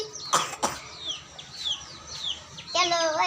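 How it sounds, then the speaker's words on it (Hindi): Hens and a rooster cluck in short bursts, with a few throaty coughs or clucks near the start and a louder squawk at the end, close by and without talk. "अब ये येलो वाली मुर्गी बनेगी, ब्राउन वाली मुर्गा"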